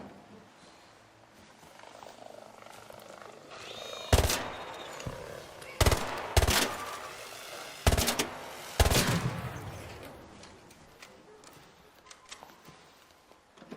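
Bursts of rapid gunfire in the Arc Raiders video game, fired in several short volleys at a moderate distance, with quieter stretches of game ambience between them.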